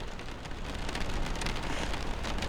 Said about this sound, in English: absurdly loud raindrops